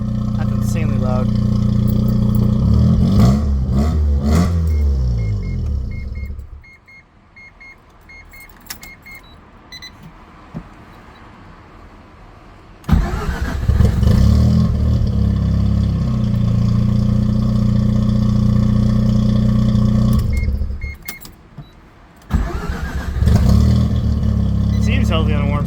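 Mazda RX7 wide body with a T04R turbo rotary engine idling very loudly up close, a deep, lumpy burbling drone that drops away for stretches and then returns, with people talking over it at times.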